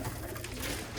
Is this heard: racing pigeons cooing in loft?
yes